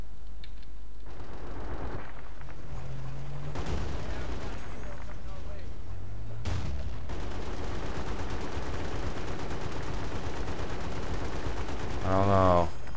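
Battlefield Bad Company 2 gunfire, a dense stream of game weapon shots and booming blasts, plays continuously with a few louder impacts, while someone talks over it near the end.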